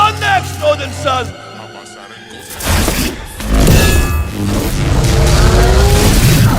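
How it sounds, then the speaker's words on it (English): A cartoon-style lightning sound effect cracks and booms into a roaring, crashing rumble that swells and sustains, following a short burst of animated voices and music. "That's the sound of lightning."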